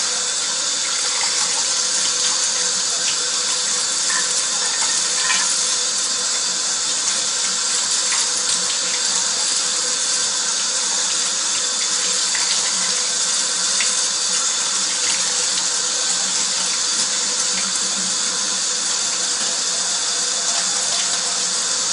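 Tap water runs steadily over the parts of a wheatgrass juicer as they are rinsed, a continuous close splashing rush with no talk.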